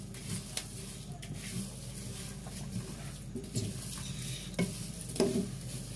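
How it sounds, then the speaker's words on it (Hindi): Spices being stirred and dry-roasted in a pan for homemade chaat masala, a steady soft sizzle and scraping with occasional louder clinks of the spoon against the pan, close and continuous without talk. "खूब अच्छी सी इसमें भुनाई होगी और खुशबू आनी शुरू हो जाएगी।"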